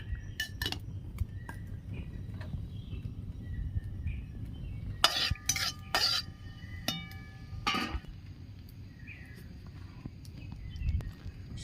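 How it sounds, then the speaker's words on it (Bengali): Black cumin seeds dropped into hot oil in a kadai for a coconut chutney tempering, giving short bright crackles and clinks near by, with a loud cluster of sizzling pops mid-way over a low steady hiss. "তেল গরম হয়ে গেছে চাটনির জন্য আমি একটা মশলা করে নেব কালো জিরে ফোড়ন দিয়ে দিচ্ছি"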